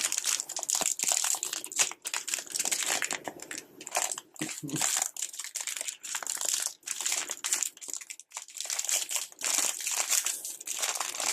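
Packaging for an Android figure being peeled and opened during a desk setup unboxing, giving close, continuous crinkling and crackling of plastic wrap with small tearing and crunching bursts, with no talking.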